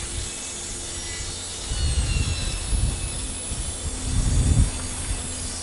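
A hand saw cuts wooden rafters at an angle for a timber and polycarbonate greenhouse. Two separate runs of rasping strokes sound close over a faint steady background hiss.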